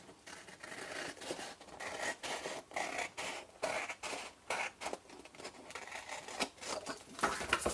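Scissors cut through card for a folded box, repeated crisp snipping strokes in an uneven rhythm, close and fairly loud, with no talking.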